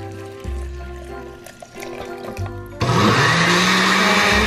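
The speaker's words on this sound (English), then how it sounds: "And now we're just going to blend these ingredients" A blender whirs loudly and steadily blending hot keto chocolate, starting after some quieter kitchen clatter and continuing without pause to the end.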